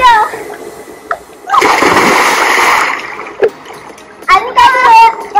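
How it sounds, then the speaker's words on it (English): A single loud splash as a person does a forward roll into a hot spring pool in Calistoga, California, followed by water settling and a voice speaking nearby. "Now I'm gonna try to do a forward roll into the water."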